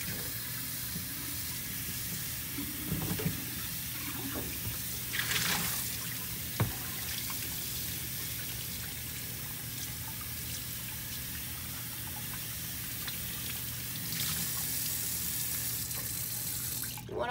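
Tap water runs steadily into a sink while clay dust is rinsed off a ceramic piece before glazing, with a few brief splashes and knocks over the continuous flow.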